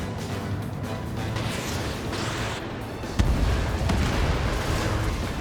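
A missile launch and explosion in the combat flight game Ace Combat 7, heard as a steady roar of jet and combat noise with a sudden heavy boom partway through, followed by sustained rumbling blasts.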